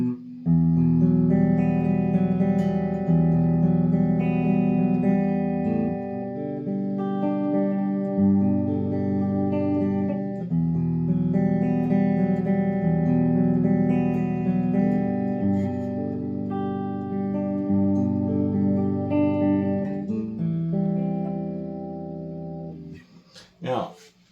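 An Epiphone Joe Bonamassa 1955 Les Paul Standard electric guitar plays sustained chords and notes through an effects-laden amp with chorus and echo, fairly loud and continuous, ending with a brief clatter.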